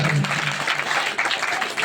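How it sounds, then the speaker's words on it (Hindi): Audience applause at a Ramlila performance in a village, a dense, steady patter of clapping with some voices mixed in throughout. "एक बार जोरदार तालियों से स्वागत करें"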